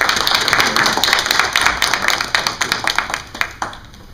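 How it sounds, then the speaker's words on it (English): An audience at a Dothan City Commission District 3 campaign announcement claps for several seconds, a dense burst of applause thinning into scattered individual claps. "Let's give him a round of applause."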